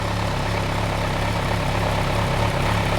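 Kawasaki Versys 1000 motorcycle engine idling steadily after air filter, spark plug and throttle body synchronization work, a constant close mechanical hum with low rhythmic throb throughout, no talking.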